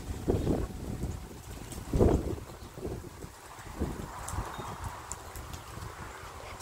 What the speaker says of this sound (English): As y'all can tell, it is windy.